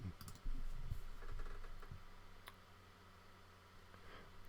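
Computer keyboard keys clatter in quick irregular bursts of close typing, loudest at the start and thinning into occasional clicks, with no talking.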